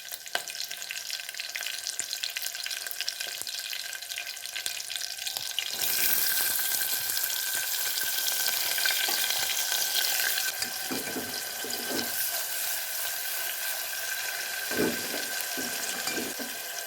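Chopped onions and green chillies fry in a pan with a steady hiss that grows louder partway through, joined by occasional stirring knocks, no voices.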